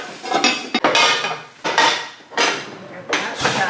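New pans from a freshly unboxed pan set clank and clatter as they are handled, with about five distinct bursts of metallic knocking and scraping in a close, fairly loud sequence and no talking.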